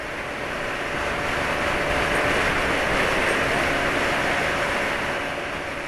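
Steady, loud, close mechanical roar with a coarse, rough edge from a Yamaha NMAX ADK Reality scooter engine running unevenly, holding at an even level throughout without pauses.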